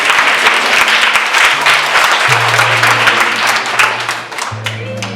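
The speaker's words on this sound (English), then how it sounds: "Can we give him another round of applause?" A crowd applauds loudly with dense, sustained clapping, while a low droning tone hums beneath, fading slightly near the end.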